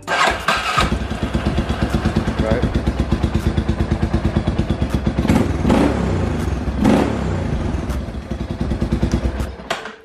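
A Yamaha Warrior 350 ATV engine, freshly fitted with a new carburetor, starts up and settles into a steady, loud, close-up idle with rapid even firing pulses and occasional brief revs for about ten seconds.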